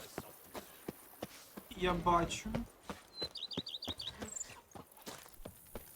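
Horse galloping in The Witcher 3, set in Toussaint: steady rhythmic hoofbeats clopping throughout, with a brief burst of louder clatter and bird chirps, and someone speaking briefly over it.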